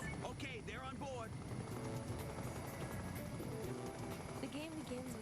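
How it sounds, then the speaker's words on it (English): A rescue helicopter in the intro of the Choplifter Crisis Shield video game, its steady rotor drone dense and continuous, layered with busy effects and voices throughout. "The game begins with scenes featuring helicopters in action."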